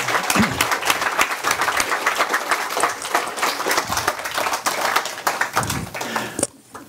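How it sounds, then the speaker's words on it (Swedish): A television studio audience applauds the arrival of guest Jan Guillou with lively, somewhat uneven clapping and individual claps standing out, continuing for several seconds before quickly fading. "En stor applåd för Jan Guillou som kommer här"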